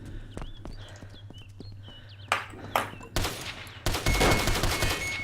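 Gunshots in the DayZ battle royale mod at an airfield: scattered sharp cracks, then a dense burst of rapid loud fire near the end, alone without talk.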